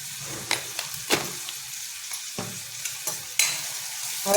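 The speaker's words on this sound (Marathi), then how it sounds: "ह्याला सुद्धा मंद आचेवरती थोडंसं परतून घ्यायचं" Tomato and turmeric cook on a low flame in a pan, a gentle sizzle broken by repeated spatula scrapes and taps at irregular intervals, close up and without voices.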